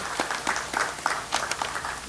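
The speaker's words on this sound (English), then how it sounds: "Another round of applause for Mr. Daly." Scattered, fairly quiet clapping from an audience at a farmers' business school launch event, made of irregular individual claps rather than a dense roar, with no voices on top.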